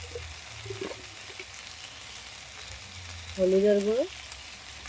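Spiced food frying in a pan while turmeric powder is stirred in, a steady low sizzle under brief speech with a louder voice near the end.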